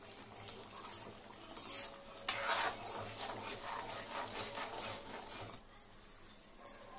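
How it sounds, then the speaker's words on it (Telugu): A spoon stirs methi chaman curry in a pot to keep it from sticking: quiet, continuous scraping and rubbing with a few soft clinks, close by, with no talk. "సో మనం కలుపుతూనే ఉండాలి, ఖచ్చితంగా కలుపుతూనే ఉండాలి, లేదంటే అడుగు పట్టేస్తుంటుంది."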